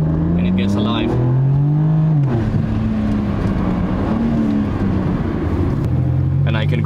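BMW M4 Competition fitted with a Remus exhaust in loud mode, a steady deep engine drone at idle with a slight rise and fall in pitch, close and loud throughout, with brief speech at the start and end.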